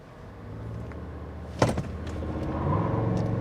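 A 2024 Toyota Grand Highlander Platinum Hybrid Max accelerates at full throttle with the traction control off. A low engine rumble builds steadily after a sharp thump partway through.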